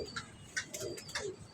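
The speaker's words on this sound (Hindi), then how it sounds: "कोई शक नहीं, वो कबूतर वाकई अच्छा है" A pigeon cooing softly nearby, a few short low coos with faint ticking sounds, quiet and close.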